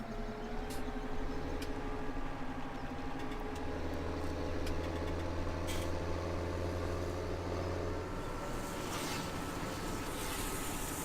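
Tractor engine in Farming Simulator 17 running steadily while reversing, a continuous low drone with a constant hum throughout, no voices.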